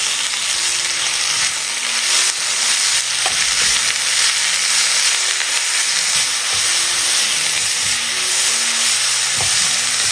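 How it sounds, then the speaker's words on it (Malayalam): Grated carrot and onions frying in a pan, loud steady sizzle and steam hiss throughout, with stirring scrapes and occasional knocks close by. "ഇനി ഇതിലേക്ക് ചേർത്ത് കൊടുക്കുന്നത് ഒരു വലിയ ക്യാരറ്റ് ഇതുപോലെ ഗ്രേറ്റ് ചെയ്തെടുത്തതാണ് ഒന്ന് ഇളക്കി കൊടുക്കാം"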